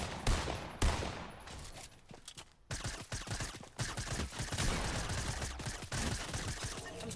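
Assault rifle fire in Fortnite, dense rapid bursts of shots with a few short gaps, loud and close, continuing almost without pause.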